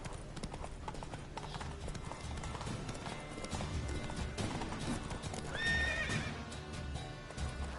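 In The Witcher 3: Wild Hunt, the horse Roach gallops with rapid clip-clopping hooves and lets out a shrill neigh partway through, all set against a busy game soundscape.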